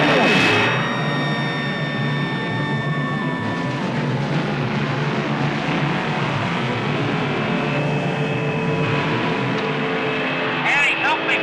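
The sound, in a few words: car engine running in the film Death Race 2000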